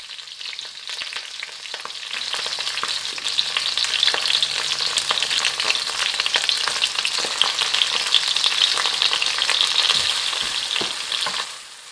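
Spring onions, pak choi and beansprouts crackle and hiss in a hot pan, a steady bright sizzle with intermittent stirring clicks and scrapes, close up for about twelve seconds with no talking.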